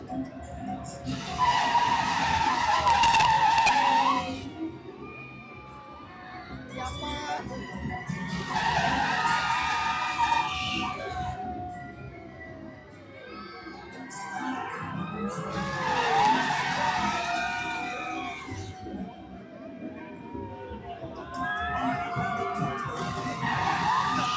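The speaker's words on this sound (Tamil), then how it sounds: "ரைடு ஸ்டார்ட் பண்ணியாச்சு." A fairground ride running at the Vavubali exhibition, with repeated surges of mechanical whirring and rumbling, loud crowd screams and shouts rising with each swing, and people talking nearby between the peaks.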